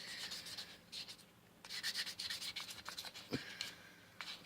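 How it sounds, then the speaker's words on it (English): 800 grit sandpaper is rubbed wet over a steel pipe in short, quiet, uneven strokes, a soft scratchy rasp that starts and stops, close and faint. "This is just 800 sandpaper. I'm gonna sand that steel too. You want to keep it wet and just wet sand this thing."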